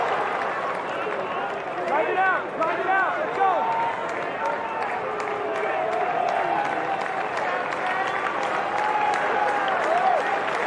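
A baseball stadium crowd at the Dish during a South Florida vs Texas game keeps up a dense, continuous roar of cheering and scattered clapping, with voices and shouts mixed throughout.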